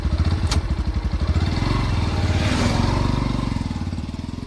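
Yamaha FZ motorcycle running close by with a rapid, pulsing engine note and a brief sharp click near the start, the steady throb easing slightly as it moves off.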